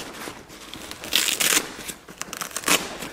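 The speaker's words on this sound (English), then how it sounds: "So these all Velcro back." Velcro flaps on a DG3 CrossFire 3 Day Pack backpack being pressed shut, giving a few short, close crackling rips in quick bursts with no talking.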